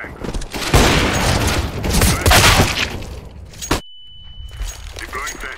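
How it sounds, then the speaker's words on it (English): A flashbang grenade goes off in a Counter-Strike match, a loud burst followed by a sudden drop to silence and a steady high ringing tone, with a player's voice talking around it. "Deploying flashbang. Throwing flashbang."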